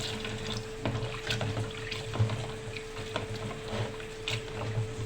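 Water runs steadily as dried fish is rinsed in a bowl, a soft continuous splash and trickle with light sloshing, faint and close, under a low constant hum.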